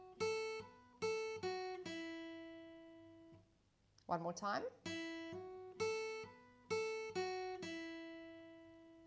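A guitar plays the first bar of a riff, a few ringing plucked and hammered notes that decay, then a brief spoken remark before the same phrase is repeated, clean and close.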